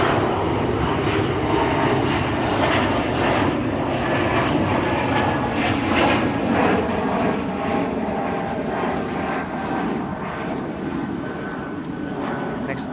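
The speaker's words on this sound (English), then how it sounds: "E2, in the meantime, taking off over here." Embraer E2 jet airliner taking off at Amsterdam Schiphol, a loud sustained engine roar at a distance that slowly fades, with a voice talking over it.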